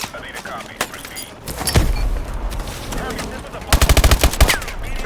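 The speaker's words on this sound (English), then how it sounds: "We'll keep some suppressing fire." Machine gun fire during a Call of Duty Advanced Warfare battle, loud bursts of rapid shots with one tight volley near the end, mixed with scattered explosions and radio chatter from game characters.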